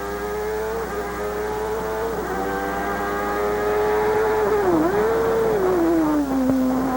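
A 1992 Formula 1 car driven by Michael Schumacher in practice at the Australian Grand Prix, its high-pitched engine holding a steady loud whine, dipping briefly as it shifts and then falling in pitch as it moves past.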